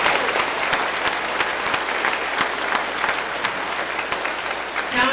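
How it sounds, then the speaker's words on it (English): A large audience at a museum completion announcement applauds a congressman with steady, dense, loud clapping that fills the whole stretch, and a few sharper individual claps stand out. "Let's give Joe a round of applause"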